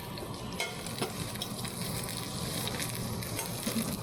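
Food stirred in a hot cast iron pan on medium-low heat, alongside steak, rice and vegetables. A steady close sizzle runs throughout, with scraping and clacking of the stirring utensil recurring every second or so.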